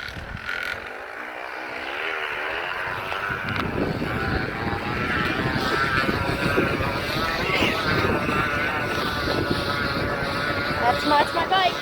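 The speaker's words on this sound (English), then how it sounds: "That's the sound of my bike with a water bottle in it." A bicycle with a plastic water bottle wedged against the spokes makes a loud, continuous motor-like buzz that rises as the wheel speeds up, with outdoor wind noise around it.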